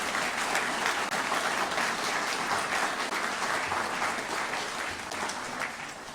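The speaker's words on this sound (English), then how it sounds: "that's worth applause." Applause at a press conference announcing a new disposable dishware manufacturing facility, a dense, steady round of clapping from a moderately sized crowd that continues evenly for about six seconds without speech.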